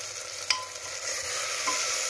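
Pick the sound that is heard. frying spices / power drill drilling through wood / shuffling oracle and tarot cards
frying spices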